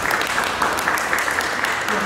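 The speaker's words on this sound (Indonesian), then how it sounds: "Tepuk tangan dulu untuk semua." A class claps together after a lecture on Eastern philosophy, a brief, dense patter of hands sounding close and fairly loud.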